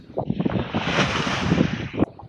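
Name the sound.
wind and waves at sea while sailing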